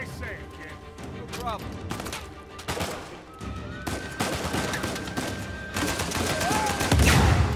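Gunfire in the shooter game Uncharted 4: A Thief's End, bursts of rapid shots and single cracks scattered through a busy mix of game effects, growing louder toward the end, with a voice talking at times.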